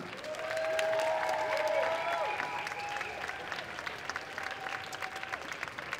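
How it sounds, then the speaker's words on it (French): An audience applauds steadily for cosplayers on stage at a cosplay contest, a dense wash of clapping that swells early and then tapers slightly, with some music or tones sounding underneath. "Et je vous demande de les applaudir bien fort."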